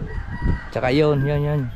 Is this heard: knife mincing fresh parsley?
no